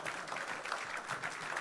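At a live comedy show, an audience gives a short burst of applause for a comedian; the clapping sounds faint and distant, a soft continuous patter.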